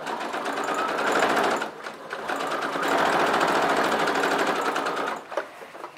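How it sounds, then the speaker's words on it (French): Sewing machine stitching two pieces of fabric together for a tote shopping bag, close rapid whirring in two bursts with short pauses between them. "Donc j'ai bien cousu mes 2 morceaux de tissu ensemble."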